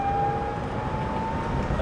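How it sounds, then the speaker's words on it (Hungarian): A Renault Twizy electric car's drivetrain gives off a sustained high-pitched whine while driving, a steady tone riding over rumbling road and wind noise. "Hihetetlenül sivít a hajtás."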